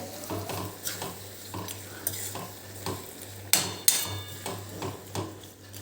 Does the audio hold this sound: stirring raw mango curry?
yes